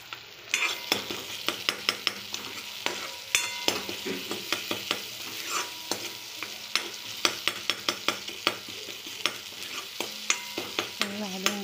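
Tomatoes frying in a pan for a chickpea and potato curry, a spoon stirring them in steady, repeated scrapes over a constant close sizzle, with no talking.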